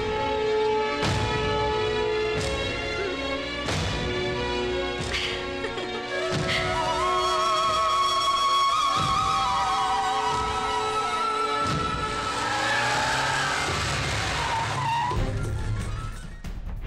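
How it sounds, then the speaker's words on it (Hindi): A car starts and speeds off with tires squealing and skidding, a series of sharp repeated bursts followed by a loud, sustained screech and engine roar close by. "ए जल्दी गाड़ी स्टार्ट कर, जल्दी चलना है।"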